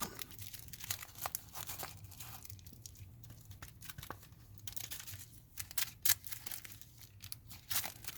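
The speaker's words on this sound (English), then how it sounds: "Shuffle those up." Crisp, rapid papery riffling and flicking of playing cards in short bursts, close by, with small taps between; no talking.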